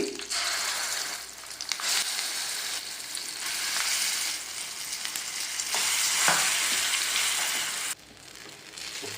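Guava chutney cooks in hot oil with curry leaves, giving a loud, steady, close sizzle with scraping stirring strokes throughout, briefly dropping near the end.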